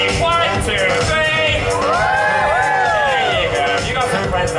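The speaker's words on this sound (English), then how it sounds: "Let's just cheer up for Edward on three." A crowd at Alton Towers cheers and whoops for Edward after a countdown, a loud burst of overlapping shouts and yells close by that rises and falls.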